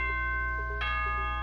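Electronic announcement chime from the Danganronpa video game: a single bright bell-like tone rings out over a steady hum of background music, fairly quiet.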